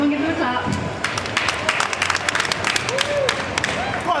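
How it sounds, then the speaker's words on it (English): An audience at an expo stage presentation claps in a steady, moderately loud burst of applause, with a presenter's voice talking over it throughout. "Everyone, come on, give them a clap."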